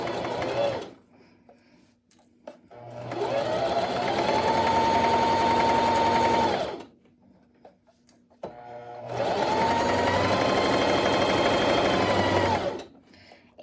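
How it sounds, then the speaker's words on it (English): Sewing machine running a plain seam with back stitching, two sustained bursts of steady mechanical whirring a few seconds each, separated by quiet pauses, close and alone. "I'm gonna back stitch at the beginning and end of my seam"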